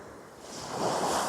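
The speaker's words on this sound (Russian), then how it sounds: "Я снимаю сейчас пляж в окрестностях пансионата Кристалл Уют" Sea waves wash ashore on Kristall-Uyut beach near Anapa on a clear day, a faint soft surf rush that swells toward the end, with light wind and no voices.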